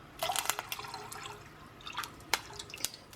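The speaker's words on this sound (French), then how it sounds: "mettre l'eau de chaux dans le mélange en 1 ou 2 fois" Lime water trickles and drips into an oil mixture for homemade oleo-calcareous liniment, a few faint, close splashes and spatters over quiet background.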